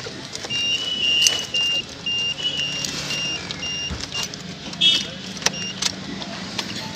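Key turned in the ignition of a Mahindra TUV300 fitted with a new transponder, with soft clicks, warning beeps and faint electrical whirring in a quiet car interior, no engine catching, and brief jangling of keys.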